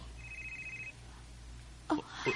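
A telephone rings once with a short electronic trill, fairly faint in a quiet room, followed by brief movement or a voice starting at the end.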